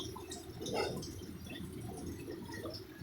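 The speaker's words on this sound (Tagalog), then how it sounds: "papasok ang tubig" Floodwater from monsoon flooding seeps and trickles into a house, a continuous close wet rushing with soft dripping and squishy splashes.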